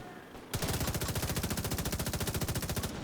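A new weapon system in a video game firing a rapid automatic burst of about two and a half seconds, with evenly spaced loud shots in a fast steady rhythm that start abruptly after a brief quieter moment.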